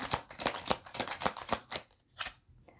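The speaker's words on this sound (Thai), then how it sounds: "เราจะเริ่มสับไพ่" Tarot cards being shuffled by hand, close and crisp, in a quick run of about eight riffling bursts followed by a short pause and one last burst, with no talking.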